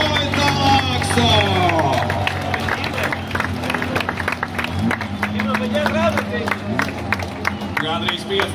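A crowd applauds and cheers at a drift competition final and award ceremony, with clapping and babble continuing under a loud announcer's voice.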